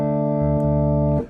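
A Hammond B3X organ plug-in runs through a distorting Leslie speaker model, giving a sustained, gritty held chord with a brief dip partway through before it cuts off.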